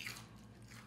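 Close-up biting and chewing of crunchy Wingstop lemon pepper chicken wings, with a crisp bite at the start followed by soft, wet chewing, heard alone at low level.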